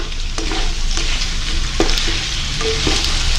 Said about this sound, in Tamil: கேரட் உருளைக்கிழங்கு முள்ளங்கி எல்லாம் ஒரு ரெண்டு நிமிஷம் நான் இதில் எண்ணெயில் வதக்கியிருக்கிறேன்